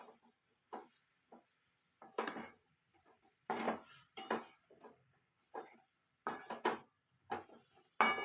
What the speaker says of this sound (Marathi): हे बघा, असं छान मिक्स करायचं.